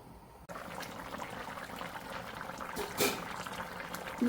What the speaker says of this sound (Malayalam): മൂടി വെച്ച് വേവിക്കാം.